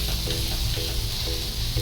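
Fish sizzles and fries steadily in a pan, a continuous close crackle with faint stirring or scraping every half second or so.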